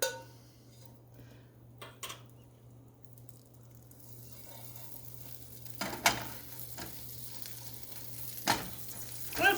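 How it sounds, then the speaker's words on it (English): Butter sizzling and frying in a pan for omelets with leftover onion and green pepper, a soft steady crackle that grows busier midway, punctuated by a few sharp clinks of a utensil against the pan. "now I'm going to go ahead and add a little bit more butter to the pan"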